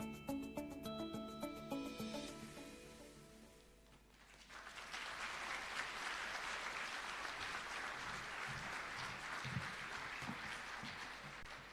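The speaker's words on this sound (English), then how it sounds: "they deserve a bigger round of applause" An audience at a coding academy graduation ceremony bursts into sustained applause, dense clapping that begins after a brief stretch of music and continues steadily to the end, moderately distant.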